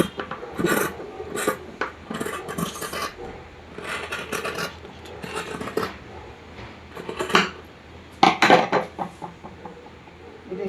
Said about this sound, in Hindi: चलिए अब कर लेते हैं गले की कटिंग।